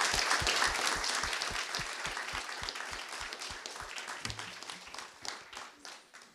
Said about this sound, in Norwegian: Så gi en applaus til begge to.